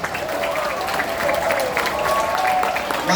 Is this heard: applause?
yes